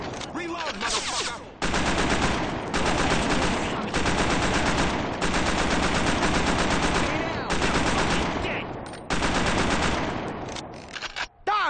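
Sustained automatic gunfire in the video game Scarface: The World is Yours, loud dense bursts of rapid shots separated by brief gaps, with shouting voices mixed in.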